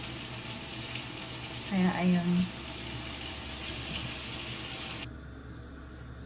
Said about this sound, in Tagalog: lalagyan ko na siya yun guys ng tubig